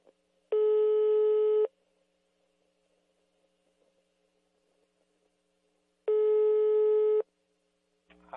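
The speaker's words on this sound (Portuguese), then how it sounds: "Já tá chamando" A telephone ringback tone on a prank call plays as two steady electronic tones, each about a second long and separated by several seconds of near silence.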